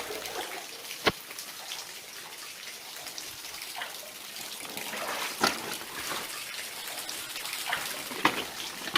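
Water falls steadily in a flooded section of an abandoned tungsten mine tunnel, a continuous hiss of trickling with a few sharper drops and splashes standing out, fairly close and without voices.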